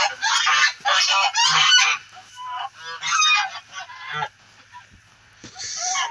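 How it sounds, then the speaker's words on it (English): A flock of geese honks loudly and repeatedly nearby in winter, bursts of raucous calls in uneven clusters with brief pauses between them, no voices over the calls. "There's the geese over there."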